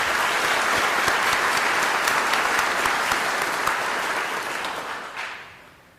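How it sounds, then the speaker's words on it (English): Loud, sustained applause from an audience at a civic association annual meeting, honoring a man named Ned, holding steady for several seconds before fading out near the end. "we owe him a separate round of applause"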